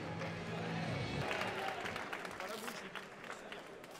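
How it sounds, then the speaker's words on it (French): A crowd applauding a fighter's entrance at a GFA combat event, steady clapping and crowd noise held at a distance with a voice talking over it. "On l'applaudit et il va entrer en musique"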